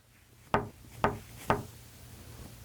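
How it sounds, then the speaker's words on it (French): Three firm, evenly spaced knocks strike a door, each a short hollow rap over a quiet background, with no voices. "frappa à la porte"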